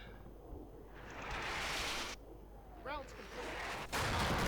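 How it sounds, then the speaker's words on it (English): Artillery fire in the war game Combat Mission Shock Force 2 comes as a few heavy, rumbling booms with noisy tails, heard alongside a person talking. "Except for the artillery, of course."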